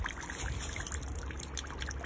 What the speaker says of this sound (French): on voit bien que des gouttes d'eau, goutte à goutte